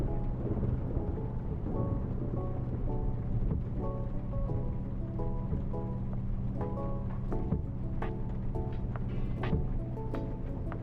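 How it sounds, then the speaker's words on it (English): Steady rain falls through a thunderstorm, forming a continuous hiss with scattered drops and soft low rumbles. A quiet music-like tonal layer sits beneath it throughout. "The rain and just the calming effect of it is just,"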